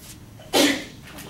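A single sharp sneeze bursts out, loud and close, during a statistics lecture, with quiet room tone before and after.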